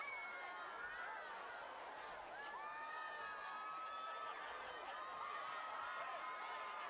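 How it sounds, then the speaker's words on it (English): Spectators at a high school varsity football game between Arlington and Belmont make a steady, distant crowd roar, with shouts, whoops and excited voices layered over the noise throughout. "the Arlington crowd very fired up"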